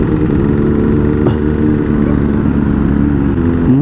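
A superbike's engine rumbles loudly and steadily at night among a gathering of superbikes at a Haldi ceremony celebration, a close sustained idle throughout with a slight rise in revs near the end.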